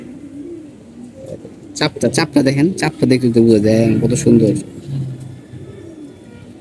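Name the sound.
pigeon cooing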